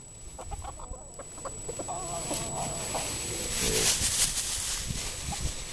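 A flock of backyard chickens clucks and murmurs while eating bread, busy overlapping clucks close by with pecking and rustling, outdoors against a steady background hiss.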